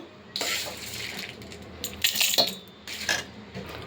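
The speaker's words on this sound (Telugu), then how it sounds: "ఇప్పుడు ఇవన్నీ తీసుకుని మనం మిక్సీ గిన్నెలో వేసేసుకుందాము" Roasted ingredients for peanut powder being tipped into a metal mixer jar, with rattling scrapes, clinks and small patters of dry pieces falling, close and moderately loud in bursts.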